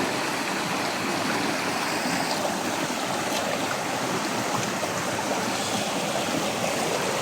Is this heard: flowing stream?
yes